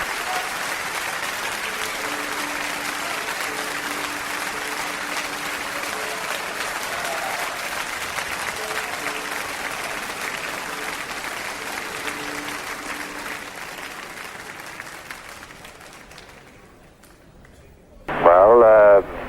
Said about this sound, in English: conducting the audience in their hand-clapping applause and sing-along right through that encore